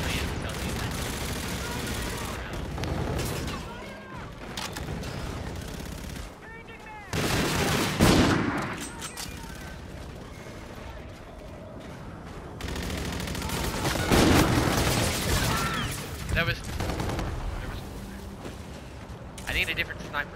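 Sniper rifle fire in a shooter video game, several heavy sharp shots spread across the clip amid dense game noise and other gunfire, with players talking over it.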